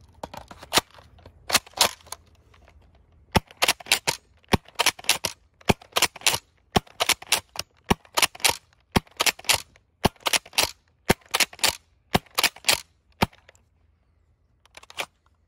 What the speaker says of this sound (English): these blasters do fire pretty far, more than normal Elite blasters